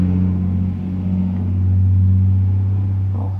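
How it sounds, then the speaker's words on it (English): A loud truck passes close by as a heavy, steady low engine rumble that swells toward the middle and then eases slightly, with no talking. "loud truck"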